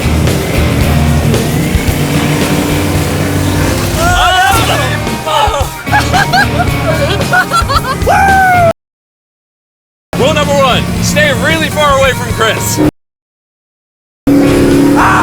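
A car spins donuts through water, its engine roaring under excited shouting and chatter. The sound breaks off twice in brief silent gaps.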